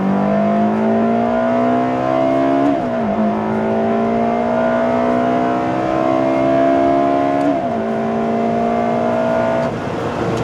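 A Ferrari 360 F1 engine roars loud and close through a full acceleration pull, its pitch climbing steadily and dropping briefly at each quick gearshift, then climbing again, with no talking.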